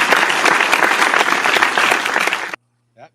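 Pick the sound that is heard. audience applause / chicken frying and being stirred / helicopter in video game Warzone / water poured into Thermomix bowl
audience applause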